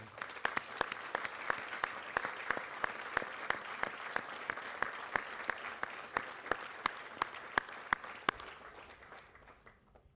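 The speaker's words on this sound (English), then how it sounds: "we'd at least like to recognize you with a round of applause." An audience at a military change of command ceremony applauds steadily, with sharp individual claps standing out over a continuous clapping wash that fades toward the end.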